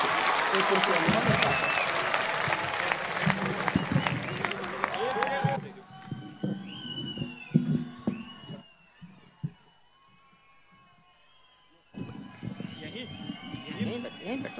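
An audience at a Hindi poetry recital by a poet claps loudly for several seconds, a dense crowd burst that cuts off sharply, followed by quieter stretches with someone speaking and some room noise.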